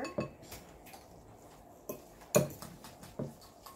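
A utensil stirs spicy noodles in a bowl or pot, making a few light clinks and scrapes at close range in a quiet room, spaced irregularly with one louder knock.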